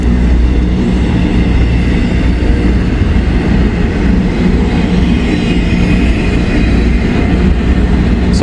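A freight train with Florida East Coast railcars rolls past close by, a loud continuous low rumble of wheels and cars with steady rail noise throughout, no voices.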